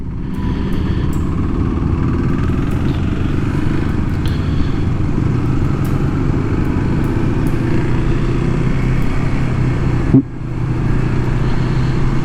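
A Kawasaki KLX 300SM supermoto motorcycle rides at low speed, its engine and exhaust giving a steady, continuous drone close by, with a brief dip near the end and no talking.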